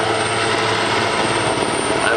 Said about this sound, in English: the last overflight of our Super Puma helicopter